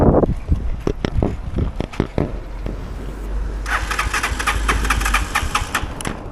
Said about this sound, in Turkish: Bakalım vurdurmaya çalışalım.